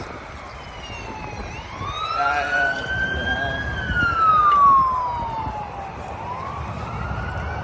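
A police car siren in a Canadian park rises and falls in long sweeping wails, loud and fairly near, over outdoor background noise with a short spoken word.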